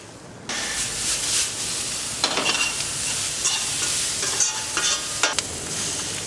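Onions sauteing with sugar in a frying pan, a steady bright sizzle that starts abruptly and runs throughout, with intermittent scraping stir strokes of the utensil against the pan, close and fairly loud, no voices.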